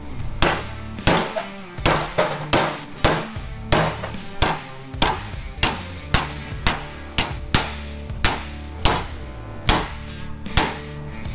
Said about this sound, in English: Hillbilly's gonna grab a hammer.